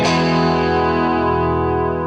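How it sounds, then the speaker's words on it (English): An electric guitar, run through distortion and chorus effects, sounds one quick strummed chord across a few bottom strings, sharp at the attack and then ringing out evenly for about two seconds. "you're going to do a quick down, up, down, but be sure not to hit all the strings"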